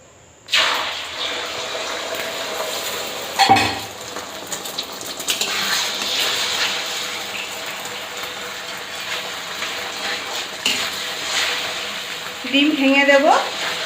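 Beaten, salted egg poured into hot white oil in a kadai, giving a steady broadband sizzle throughout, with a sharp burst as the egg hits the pan and brief scraping and clinking near the end.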